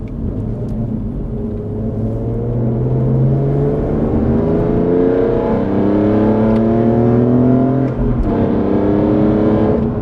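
A tuned BMW M3 CSL accelerates hard from inside the cabin, its engine note rising loudly through the revs, dropping sharply at each gear change and climbing again.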